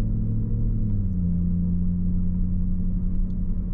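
A car with a ZF 6-speed automatic transmission drives at steady speed, its engine and road rumble holding a constant low drone throughout, with no distinct gear change standing out.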